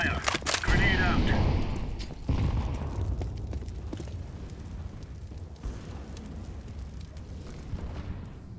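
In the video game Counter-Strike, a molotov and a grenade go off with a sharp, loud burst followed by a roaring, crackling rumble that slowly fades over several seconds.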